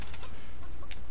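Clucking of a chicken in a multiplayer shooter video game, a steady stream of soft clucks over a busy game background with no clear speech.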